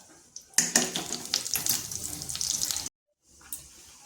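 Whole cumin and black cumin seeds dropped into hot mustard oil, sizzling and crackling loudly and steadily up close, then cutting off abruptly before a fainter sizzle returns.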